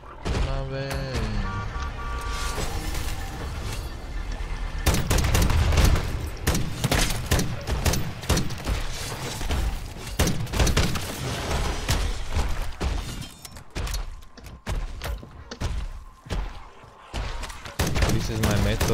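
Gunfire in the video game MW3 Zombies, a near-constant stream of rapid automatic shots with short pauses, and someone talking over parts of it.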